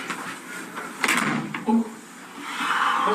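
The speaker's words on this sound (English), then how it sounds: "Those doors. I can never tell if they're going to close softer." A door swings shut in a police interrogation room, landing with a couple of soft knocks and thuds at close range over a quiet room hum, with no talk over it.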